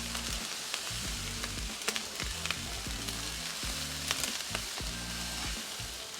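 Fried rice with soy sauce sizzles loudly on a flat-top griddle, a steady frying hiss broken by scraping taps of a large spatula, close and continuous with no talk.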